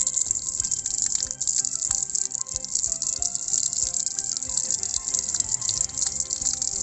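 Water gushes steadily and loudly from a 12 V DC steel-bodied submersible pump under test, a constant rushing splash with a few irregular rattles and drips underneath, with no talking.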